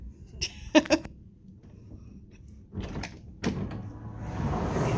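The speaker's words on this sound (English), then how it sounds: "Let's see if I can get the door open." A cruise ship stateroom's balcony door, overlooking the Boardwalk on Utopia of the Seas, clicks and rattles, then slides open with a rising rush of outdoor noise flooding in.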